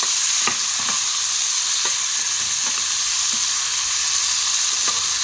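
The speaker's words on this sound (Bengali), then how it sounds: "এরপর আমি এখানে দিয়ে দিলাম একটা বড় সাইজের টমেটো কুচি, একটা কাঁচা লঙ্কা ছোটো ছোটো কুচি করে নিয়েছি" Chopped tomato and finely chopped green chili frying in a hot pan give off a loud, even sizzle, with occasional light clicks of stirring over the steady hiss and no voices.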